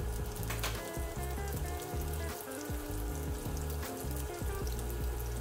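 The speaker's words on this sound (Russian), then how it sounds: "Разогреваем достаточно большое количество масла, опускаем мини-беляши именно этим швом в разогретое масло." Hot oil sizzles and crackles steadily as small kefir-dough meat pastries (belyashi) fry, a dense, continuous hiss with no voices.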